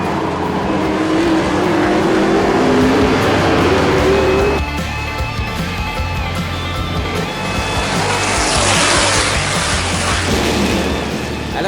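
Stock cars racing on an oval track in a Quebec event, engines roaring past in loud waves, one car's pitch climbing before the sound shifts to another passing pack.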